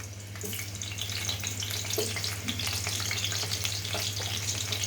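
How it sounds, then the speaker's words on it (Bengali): Potatoes frying in oil left from browning onions for chicken biryani: a continuous close crackling sizzle with scattered pops over a low steady hum, no voices. "এখন আমি আলুগুলো ভেজে নিব এই তেলের ভিতরেই"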